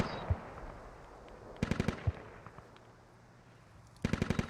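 Gunfire in the military shooter Squad during an artillery strike on a US base: rapid bursts of automatic fire near the start, middle and end, with scattered single shots and a low hum between them.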